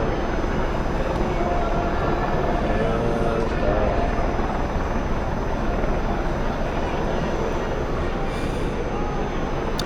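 A helicopter hovers overhead during a large street march in London, its dense, steady rotor roar filling the scene continuously with crowd noise beneath and voices mixed in.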